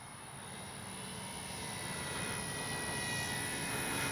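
A Flex RV-8 60E G2 RC plane comes in to land, its electric motor a steady, broadband whir that swells slightly louder as it approaches, with no voices.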